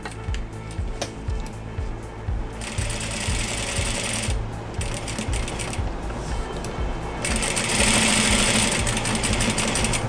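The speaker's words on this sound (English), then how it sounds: "So you want to sew all the way around, right?" A sewing machine stitches a seam in plaid fabric with a narrow seam allowance, its steady, close mechanical whir and needle chatter running continuously and pitching up slightly as it speeds.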